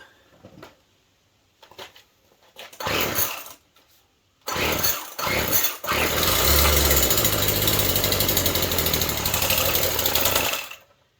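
A Poulan string trimmer under repair coughs through a few short bursts as it is pulled, then catches and runs at a loud, steady two-stroke buzz for several seconds before cutting out.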